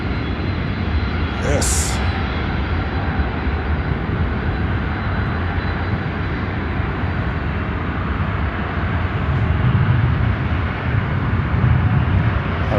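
Airplane engines roar steadily at Chicago O'Hare airport as a constant loud rumble for nearly thirteen seconds, swelling slightly toward the end. A voice speaks briefly once.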